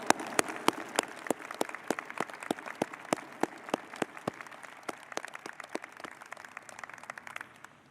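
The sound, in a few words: audience applause at convocation ceremony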